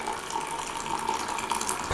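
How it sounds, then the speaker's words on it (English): A drink poured into a glass right up to the rim, a steady close trickling and splashing stream running continuously with no talk. "We got a little overzealous there with the pouring."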